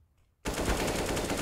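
Rapid automatic gunfire from Counter-Strike on the de_overpass map bursts in suddenly after a brief quiet moment and stays loud and dense to the end.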